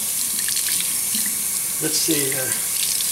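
Water runs steadily from a Moen kitchen faucet in a continuous hiss, and someone speaks briefly over the flow.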